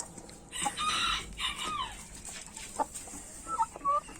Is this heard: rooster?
yes